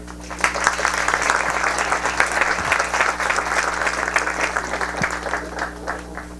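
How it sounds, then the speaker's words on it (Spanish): Loud, sustained applause from a large audience at a parliamentary debate forum welcoming a speaker, dense clapping filling the whole stretch without pause. "Recibamos con un fuerte aplauso"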